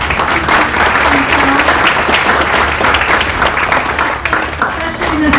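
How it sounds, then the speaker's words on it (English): Sustained, loud applause from an audience at a business presentation event, steady and dense clapping throughout without any break. "a big round of applause, please"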